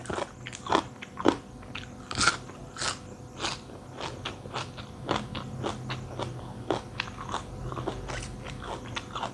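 Close, loud crunching bites and chewing of crisp raw vegetables eaten alongside a Thai spicy rice-noodle salad with blanched shrimp and fermented fish sauce, in a steady run of sharp crunches with no talking.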